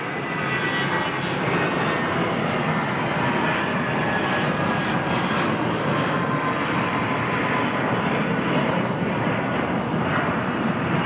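A Boeing 767 jet on approach to land at about 500 feet, its engines a steady, loud broadband roar that holds evenly throughout without fading, and no talking.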